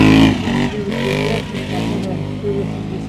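ATV quad bikes or side-by-side buggies with tuned, turbocharged engines revving hard in a motorsport race, loud close engine roars that rise and fall over a few seconds.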